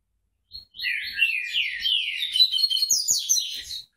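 A Coleiro Baiano songbird sings a close, clear run of high, rapid chirps and warbling phrases lasting a few seconds over a quiet background, with no voices.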